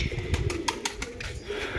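A pigeon held in a hand at a rooftop loft in R.S. Pura gives a few soft, close cooing calls over a brief stretch, with light background noise.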